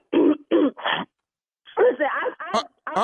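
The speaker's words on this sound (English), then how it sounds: "Did you just cough again?" Three quick, close coughs come in a row, then a pause before a person starts talking.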